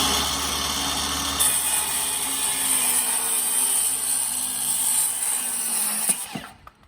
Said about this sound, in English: When I cut with a circular saw